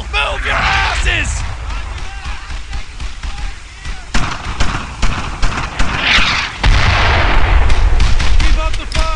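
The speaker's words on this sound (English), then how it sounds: "Suppressing fire!" Brothers in Arms: Earned in Blood gunfire during a World War II battle, dense, loud volleys of rifle and machine-gun shots with booming explosions, continuing throughout, with soldiers shouting over the din.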